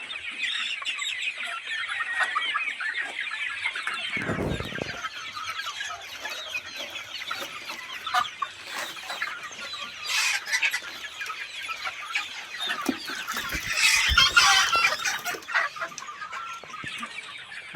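A flock of large chickens clucks and murmurs steadily while eating feed laid out in rows in a hot rooftop coop, with occasional louder squawks rising over the continuous chatter.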